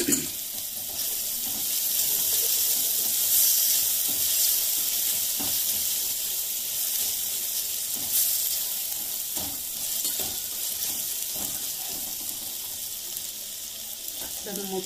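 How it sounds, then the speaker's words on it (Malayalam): Tomato masala for chicken biryani fries steadily in a pan, a close continuous sizzle with occasional scrapes and clinks of stirring throughout. "ഇപ്പം നമ്മുടെ മസാല ഇവിടെ നല്ലോണം മൂത്തിട്ടുണ്ട്."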